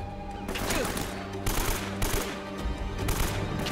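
AK assault rifle fire in the game Uncharted: Drake's Fortune, with dense rapid bursts of automatic shots over continuous in-game noise, loud and close.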